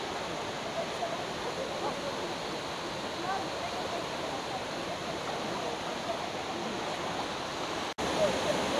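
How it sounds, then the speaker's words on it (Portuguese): Steady broadband rush of a stream and small waterfall along a trail race course, continuous and fairly loud, with a brief dropout near the end and no talking. "Alguns pontos aqui são realmente de riacho, cachoeira já existente"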